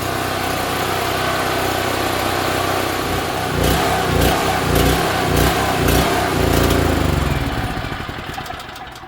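A portable gas generator engine runs steadily on its own, loud and continuous, its rhythm pulsing unevenly midway before the sound fades and dies out as it stalls.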